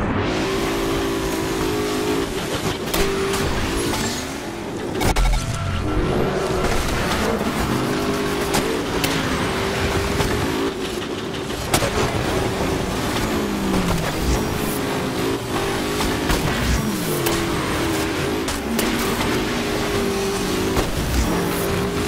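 Futuristic racing cars in Onrush roar continuously at high revs, engines droning and shifting pitch as vehicles jostle, with tire noise and impacts punctuating the steady, loud racing din throughout.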